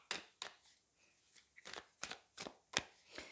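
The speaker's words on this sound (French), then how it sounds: "On va aller prendre le tarot pour voir ce qui se passe" Tarot cards being shuffled by hand, a run of sharp, separate riffling snaps at an uneven rhythm, close and quiet.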